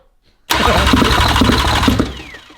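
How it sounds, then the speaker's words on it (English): A VR6 engine swapped into an Audi RS3 cranks over under a Syvecs S7 wiring setup, a sudden loud, steady whirring churn with rhythmic pulses that lasts about two seconds and then fades, close up and without firing. "Cause yeah, it's definitely cranking, George."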